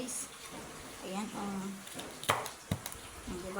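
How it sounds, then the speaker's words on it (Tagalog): Knife cuts through a fried tomato and black bean dish, giving a few sharp crisp chops near the end, with a person talking quietly before them. "Panoodin niyo po ako mag-slice."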